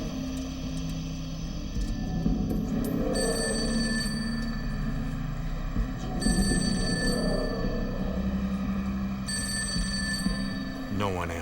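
A telephone rings repeatedly with steady electronic tones over a low background hum, then stops without being answered.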